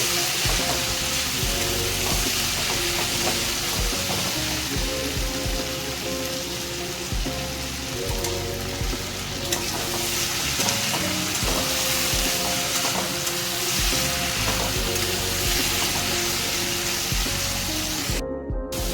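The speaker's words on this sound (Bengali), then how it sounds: "এবার ওর মধ্যে টমেটো দিয়ে দিচ্ছি একটা বড় সাইজে টমেটো ওখানে দিয়ে ভালো করে কষিয়ে নেব" A large tomato fries with spices in a wok for a chicken curry with peas. Loud, continuous sizzling and spattering run throughout, with stirring noises mixed in and no talking.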